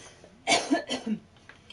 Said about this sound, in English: That's a sad cough you got going on there.